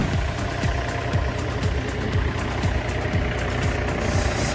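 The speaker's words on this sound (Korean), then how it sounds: "포크레인은 지금 시동을 걸고 있습니다." An excavator engine is being started on a snowy day with a drained battery, a loud, steady, close rumble with rapid rhythmic pulsing throughout and no voices.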